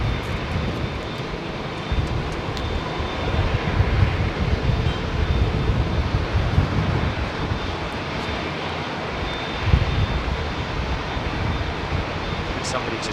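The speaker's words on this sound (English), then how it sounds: "Here comes that Egyptair 737 freighter" An Egyptair Boeing 737 freighter passes at London Heathrow on a windy day, a steady mid-level jet roar with a thin high tone, mixed with wind buffeting and brief voices in the background.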